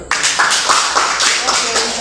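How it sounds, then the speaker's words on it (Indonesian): A group of teachers at a mathematics training session claps in brief, close applause that mixes with voices and talk. "Apresiasi, beri tepuk tangan untuk kita semua."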